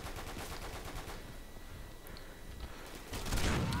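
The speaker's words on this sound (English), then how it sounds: "that's mortar or something, huh?" Mortar fire in the World War II shooter Darkest Hour '44-'45: dense overlapping blasts and rumbling fusillade, growing louder and heavier toward the end.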